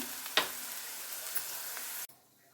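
A steady hiss of chillies and tempering spices sizzling in oil close by, with a couple of brief crackles and a stir, cutting off abruptly near the end.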